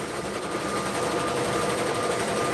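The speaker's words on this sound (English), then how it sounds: "Let me show you guys some printing action here." A printing machine runs steadily with a fast, even mechanical chatter, moderately close and continuous throughout, with no talking over it.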